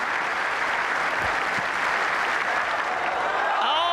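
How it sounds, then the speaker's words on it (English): A stadium crowd at a Diamond League athletics meet in Stockholm bursts into sustained cheering and applause for a pole vault clearance, a dense, loud roar of clapping that carries on evenly, with a commentator's voice faintly under it. "A huge cheer."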